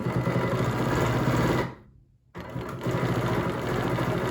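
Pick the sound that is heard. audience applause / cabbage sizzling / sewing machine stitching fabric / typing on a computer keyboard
sewing machine stitching fabric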